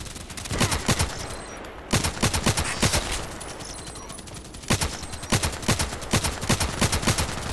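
Gunfire in the shooter game Contract Wars: several loud bursts of rapid automatic shots separated by short pauses, close and sharp, with no talk.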